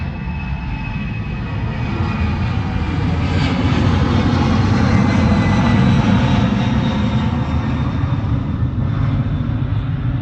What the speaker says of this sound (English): there's a plane going overhead right now